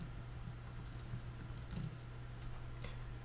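Quiet keyboard typing as a rationale is entered, soft scattered keystrokes over a steady low electrical hum, with no speech.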